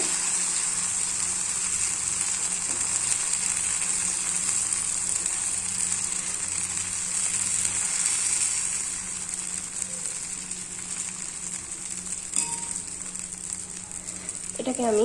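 An atta vegetable roll fries in a little oil in a pan, giving a steady close sizzle and hiss, with a brief spoken phrase partway through.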